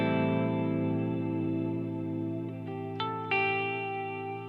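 Boss GT-1000 Core guitar multi-effects unit on its vibrato modulation setting, a sustained electric guitar chord wavering in pitch with steady pulsing warble, a couple of fresh pick attacks near the end, no talking.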